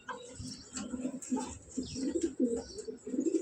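A male racing pigeon coos close by in a run of low, throaty pulses repeating every half second or so, with faint chirps in the background.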